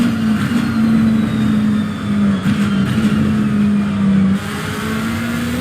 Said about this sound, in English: Let's have a listen to those down changes.